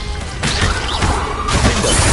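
Confringo blasting spell explosion in Hogwarts Legacy, a loud crackling blast with shattering debris that rolls on through the whole moment.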